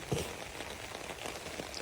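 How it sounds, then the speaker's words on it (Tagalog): Rain falls steadily outdoors, making a dense close patter on surfaces with no voices over it. "Mag-ulan daw so. Ulan, payong ta."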